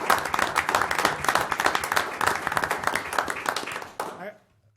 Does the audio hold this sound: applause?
yes